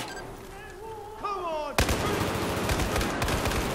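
Gunfire erupts in Battlefield 4, loud sharp bursts of rapid shots that begin abruptly after a stretch of quieter tonal game sounds and keep cracking densely to the end.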